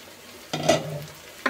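Drumstick curry cooking in a village-style kitchen, with a sizzling splash as tomato pieces drop in, a brief stir noise afterward, and quiet background between the sounds.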